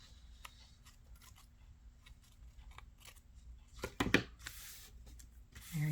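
Scissors snip through fabric while making a pocket on a lace-covered journal, a short burst of close, crisp cuts near the end after quiet handling noise.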